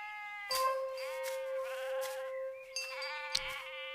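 Sheep bleating in the anime Spice and Wolf, several wavering calls overlapping near and loud, set against a steady tonal drone with a couple of sharp onsets.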